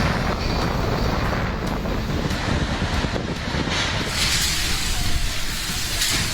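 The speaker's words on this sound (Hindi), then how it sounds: "अम्पन तूफान की तेज हवाएं जब 190 किलोमीटर प्रति घंटे की रफ्तार से चली" Strong Cyclone Amphan winds roar without letup, buffeting the microphone with rumbling gusts and a constant wash of noise, no voices.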